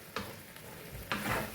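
Frying sizzle after a batter-dipped food goes into hot oil for Rayalaseema-style bend kaya (okra) bajji, a short burst near 0.2 s and a louder, longer crackle from about 1.1 s, close and with no speech.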